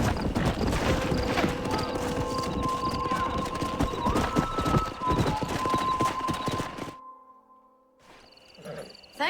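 Horse hooves pound in a fast galloping rhythm in a video game, loud and close, with a drawn-out tone over them before cutting to near quiet.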